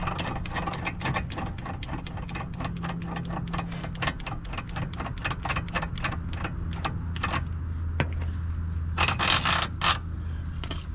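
A hand ratchet spins a bolt back off on a Mk4 car's wheel bearing job, rapid close metallic clicks in a quick run that slows, with a few sharper clanks near the end and no voices.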